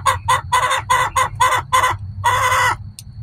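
Backyard chickens including a Buff Orpington, a Blue Americana and Silkies cluck and squawk in a quick series of loud, close calls, ending with a longer drawn-out cackle and a short final note.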